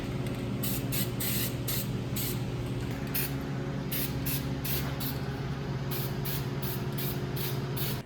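Spray can hissing steadily and loudly onto a car's steel body panel before welding, one continuous spray lasting throughout with brief pulses of extra hiss near the nozzle.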